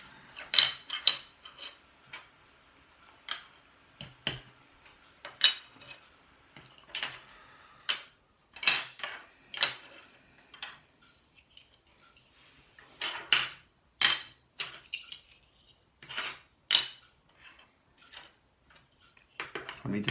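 Plastic counting cubes being grabbed, clicked together and split into groups of two. The sound is a series of sharp, light clacks and taps in irregular clusters, fairly close and quiet, with pauses between handfuls.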